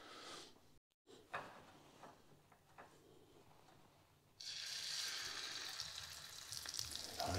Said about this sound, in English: You hear him sizzling.